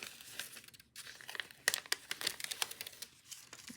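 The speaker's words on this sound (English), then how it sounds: "Peel off that paper back if I can" Paper backing being peeled off fabric quilt-block pieces, a close, crinkly rustle with small sharp crackles and tearing sounds over a few seconds, with no talking.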